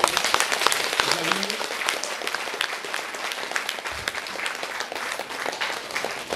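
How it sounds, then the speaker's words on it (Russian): Applause from a congregation at a church service with an archbishop in Novomoskovsk, a steady moderate clapping wash that stays even throughout, with a voice briefly audible underneath. "Аплодисменты."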